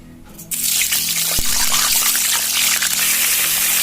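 Water from washed Gobindobhog rice rushes steadily through a large strainer into a sink, a constant close gushing with a faint low hum beneath it.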